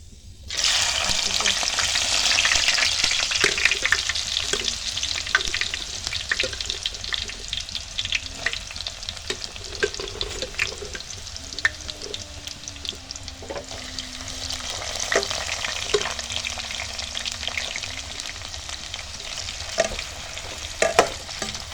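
Second batch of sweet potato (camote) fries frying in hot oil, a steady close sizzle with a continuous bright crackle and occasional stirring clinks, running alone without talk.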